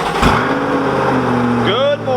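A Chevrolet C8 Corvette engine runs at a loud, steady idle while warming up, then revs up with a rising whine as it drives off near the end. People talk over it.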